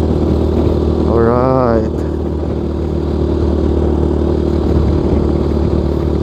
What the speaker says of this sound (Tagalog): Kung naririnig nyo, stock pipe ko.